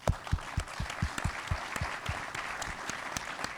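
An evening audience at a talk in Friuli Venezia Giulia breaks into applause, a brisk, even patter of many hands clapping together, moderately loud and unbroken.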